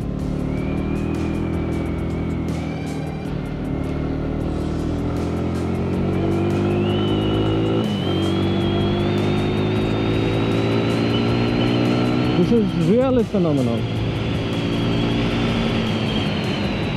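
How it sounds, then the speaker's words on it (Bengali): A Yamaha R15 V4 BS7 motorcycle engine is heard while riding, a steady droning exhaust note that rises in pitch as it revs, with a brief gear-shift dip and wind rush; a voice speaks briefly. "এই BS7 ইঞ্জিনটার ফলে গিয়ার শিফটিংটা আগের থেকে আরও বেটার মনে হচ্ছে"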